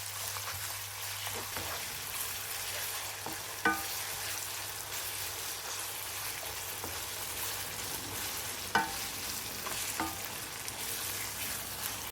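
Onions frying in ghee for Bharuchi mutton dal gosht, a soft steady sizzle with a few sharp spoon scrapes as they are stirred, and no talk.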